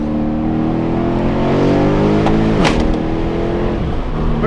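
Mercedes E63 AMG engine pulling hard, loud and close, with rising harmonics, then a sharp snap as it drops into gear and the revs settle into a lower, steady growl.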